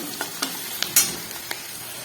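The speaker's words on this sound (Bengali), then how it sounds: "আদাটা একটু ভাজা হবে নাহলে কাঁচা গন্ধ আসবে" Ginger sizzles in a hot pan with onion and spices, close and steady, while a spoon scrapes through it in a few quick, irregular stirring strokes.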